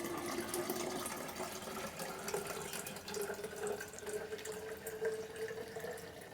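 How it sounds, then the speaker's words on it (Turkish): Settled unripe grape juice pours from a container into a pitcher, a soft continuous trickle with a rising filling tone and faint splashing, quiet and close. "Tortusunu kaçırmadan duralan koruk suyumu sürahiye boşaltıyorum."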